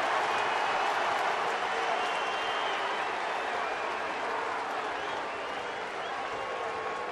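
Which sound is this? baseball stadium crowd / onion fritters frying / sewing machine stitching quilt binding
baseball stadium crowd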